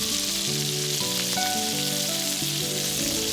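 A sirloin steak sears in a pan just after being flipped, giving a continuous close sizzle under steady background music.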